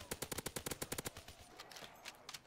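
Rapid automatic gunfire in a video game, a fast, evenly spaced burst of sharp shots that fades to quieter, scattered pops near the end.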